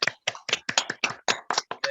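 Scattered clapping from a small group at an online Zoom seminar, about eight distinct claps in a steady rhythm, fairly close and moderately loud, with no talking.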